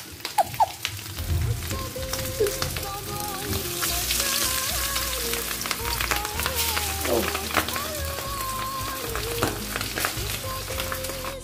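Fish pieces lowered into hot oil for a fish fry set off a loud, continuous crackling sizzle with scattered pops, while people talk over it in the background.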